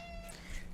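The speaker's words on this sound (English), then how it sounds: "that was a cute meow" A short cat meow, fairly close and clear, over a low steady background hum.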